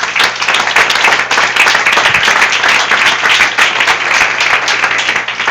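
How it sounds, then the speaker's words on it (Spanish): Church congregation applauding together, a dense sustained wash of clapping that stays steady and loud throughout, with no voices standing out. "denle aplauso al Señor"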